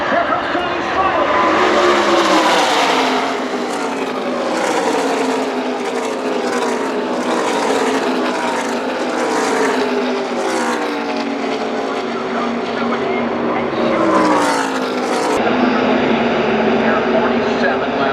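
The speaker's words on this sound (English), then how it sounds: "side-by-side racing begins" A pack of race cars roars side by side around the high banking at Talladega Superspeedway, loud and continuous, with engine pitches rising and falling as the cars sweep past. A crowd and a commentator's voice sit underneath.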